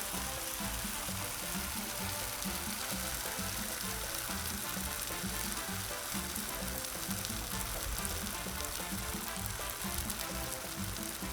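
Fried mac and cheese crisping on a Blackstone 22-inch griddle, giving a dense, steady, close sizzle that holds evenly throughout with no talking.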